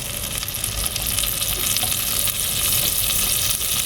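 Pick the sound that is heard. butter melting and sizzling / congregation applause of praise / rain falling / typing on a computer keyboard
butter melting and sizzling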